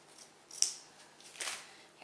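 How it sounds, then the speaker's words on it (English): Fabric scissors snip tags off pillows in two quick crisp cuts, close and fairly quiet, with a soft rustle between them. "I'm going to cut the tags off of them with my fabric scissors."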